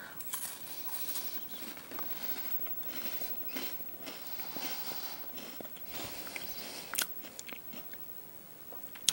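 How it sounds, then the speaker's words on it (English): Crisp bites and crunchy chewing of a light, airy wafer-like cookie during a snack taste test, heard close to the mouth in repeated irregular crunches, fairly quiet with no talking. "So the cookie is like a wafer-like cookie, and it has a good crunch, and it's light and airy."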